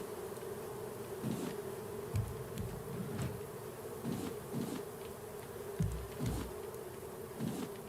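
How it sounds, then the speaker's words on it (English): Bees buzz around a cluster of beehives on a raft in the survival game Raft, a steady droning hum with louder passes as individual bees fly close, no voices. "if I could turn the bee noise off"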